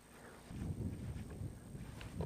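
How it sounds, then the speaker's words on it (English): Light wind over a lake on a fishing outing, a soft steady rush with faint buffeting against the microphone, low and continuous with no talk. "And a little bit of wind."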